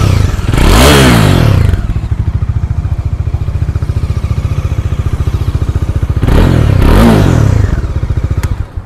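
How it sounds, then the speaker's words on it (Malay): A 2022 Modenas Dominar 400 single-cylinder motorcycle, heard up close: a steady thumping idle broken by two sharp throttle blips that surge and fall back, roughly five seconds apart, with no talking. "Okey, single cylinder punya motor dia punya bunyi tak kuat sangat,"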